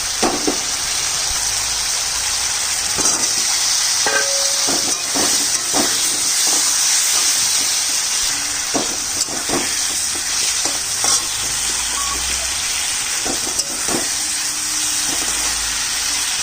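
New potatoes, unboiled, sizzling steadily in hot oil in a pan with repeated stirring scrapes and clacks throughout, loud and close with no talk.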